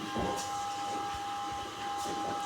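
Chickpea bhajis deep-fry in hot oil, a close, steady hiss and bubbling sizzle with a few soft pops, continuous throughout.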